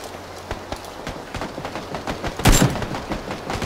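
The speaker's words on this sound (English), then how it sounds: "Ooh, shit, I'm taking fucking sniper fire." Sniper rifle fire in the PUBG battle-royale video game, a series of sharp distant cracks over a rustling background, with one louder, closer shot near the middle.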